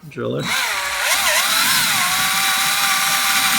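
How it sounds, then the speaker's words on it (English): A power drill whirs up loudly and holds a steady high-pitched grinding whine as it drills out metal rivets on a Honda S2000 soft top, close and continuous. "you just gotta rivet them out by drilling"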